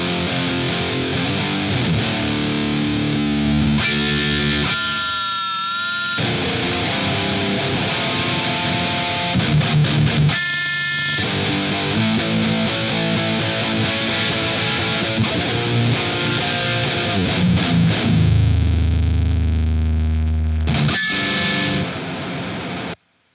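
Loud electric guitar played through a Crayon overdrive and a Distortion Factory pedal, a thick saturated wall of chords and riffs sustaining continuously, close and unaccompanied, with a brief gap near the middle and a ringing final chord.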